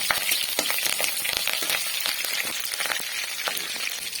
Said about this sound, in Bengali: এর মধ্যে দিয়ে এবার সবগুলি একটু ভালোভাবে নেড়ে চেড়ে নেব।